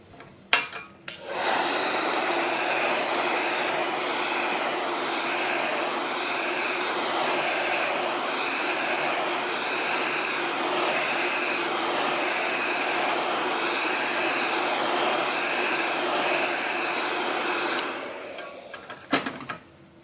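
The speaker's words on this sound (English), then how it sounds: "let's go ahead and make sure it's completely dry with our hair dryer" A hair dryer runs in one long steady whirring blast for about sixteen seconds, drying paint on a cartoon penguin picture, then clicks off.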